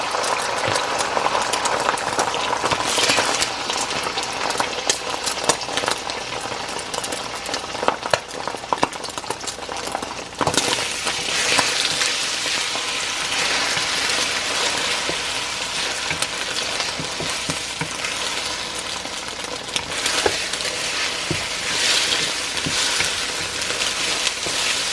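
Four eggs frying in oil in a hot wok, a steady loud crackling sizzle that runs unbroken with scattered pops and spatters, close up, no talking.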